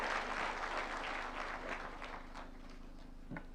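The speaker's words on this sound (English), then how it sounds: "Why don't we welcome him with a clap?" An audience claps to welcome the President of Kenya, William Ruto, at a national productivity and performance conference. The applause is steady and dense at first, then slowly thins and fades, with a few scattered claps near the end.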